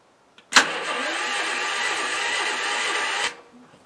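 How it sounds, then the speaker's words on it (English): An electric-start gasoline generator with the choke on cranks: a click, then a steady, loud starter whir for about three seconds that cuts off abruptly without the engine catching. "So we'll start it now. It's a gas, I turn the gas on. It's electric start."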